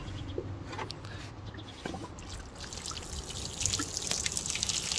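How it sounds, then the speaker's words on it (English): Water poured and trickling over a convertible car's fabric soft top that has been treated with waterproofing spray, a steady close splashing and dribbling that grows denser toward the end. "my assistant will pour some water"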